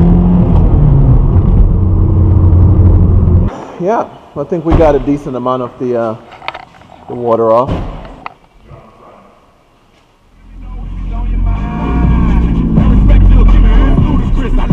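A 1993 Toyota MR2 rolls along with a steady engine rumble and road noise, interrupted by a stretch of close conversation before the drone fades briefly and then returns as the car keeps moving.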